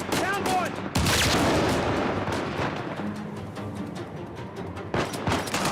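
Dense, loud gunfire from the video game Uncharted 4, with overlapping shots and booming blasts crowding together, continuous bursts throughout with a few sharper cracks standing out.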